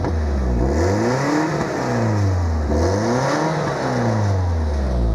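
A 1986 Alfa Romeo Spider Veloce with its 2.0 engine revved repeatedly, pitch climbing and falling in several smooth sweeps, loud and close throughout with no voices.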